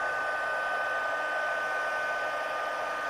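A heat embossing tool blows hot air onto embossing powder on a card, making a steady, close, whirring fan hum that stays level throughout with no talking.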